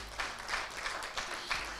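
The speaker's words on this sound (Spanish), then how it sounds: "Denle un aplauso al Señor." Applause for the Lord from a church congregation, a faint, steady patter of many hands with a few louder swells.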